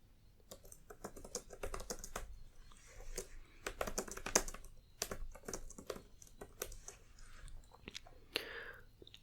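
Soft, close typing on a computer keyboard in a quiet room: irregular bursts of light key clicks that come and go over several seconds, with no one speaking.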